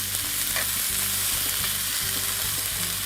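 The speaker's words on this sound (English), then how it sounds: "green peppers, and tomatoes, and I'm going to saute those in the oil" Green peppers and tomatoes sautéing in hot oil, a dense loud sizzle close up, with rhythmic stirring knocks and scrapes repeating every half second or so, no voices.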